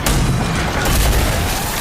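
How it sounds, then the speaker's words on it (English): A shotgun fires in the video game Rage 2, a loud booming blast with dense, roaring energy filling the short moment, then a second heavy report close behind. "creating 2019's best shotgun in an FPS since Doom 2016's Super Shotgun"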